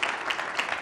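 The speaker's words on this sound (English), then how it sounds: "I said he'd get at least three rounds of applause." Applause at a city council meeting in Albuquerque, a steady wash of clapping from the gathered audience with a few swells, brief and moderately loud.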